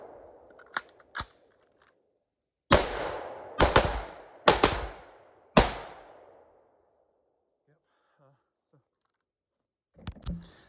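PSA rifle fired at targets, a few sharp close shots early, then four loud spaced reports with short ringing tails, followed by quiet and faint clicks of handling.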